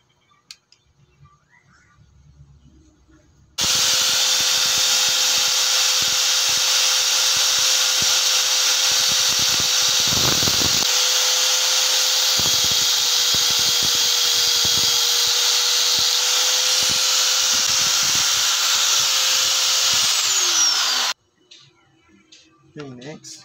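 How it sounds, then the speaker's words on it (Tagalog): Grinder cutting through long stainless steel Allen bolts for a brake caliper: a loud, sustained high-pitched whine that starts abruptly, holds steady for about 17 seconds, then cuts off, with quieter background noise before and after. "Gamitan ko siya ng grinder."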